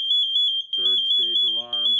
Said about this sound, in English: So there's the second alarm